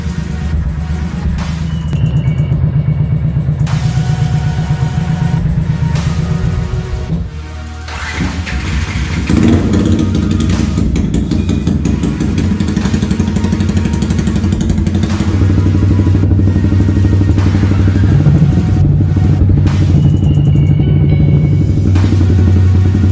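A Yamaha R15 motorcycle fitted with a Proliner full titanium exhaust idles loudly and up close, its rough, steady engine note dipping briefly before picking back up and running on with rising revs.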